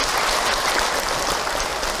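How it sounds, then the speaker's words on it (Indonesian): Applause from a religious congregation at the close of an Islamic sermon, a dense, steady wash of many hands clapping at once, evenly loud throughout with no voices above it. "Tepuk tangan untuk kita semua."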